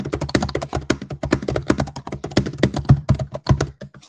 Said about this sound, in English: There's a loud keyboard noise here.